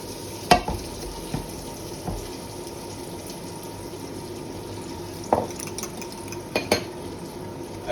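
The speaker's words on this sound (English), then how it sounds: "We can now heat up our pan again with our butter." Butter heating in a frying pan for scrambled eggs gives a steady, quiet sizzle, with a few sharp clinks of a utensil against the pan scattered through it.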